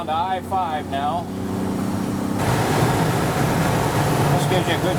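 A 1949 Chevrolet five-window pickup cruising at freeway speed on the I-5, a steady broadband engine and road roar that rises and thickens halfway through, with a voice talking briefly at the start.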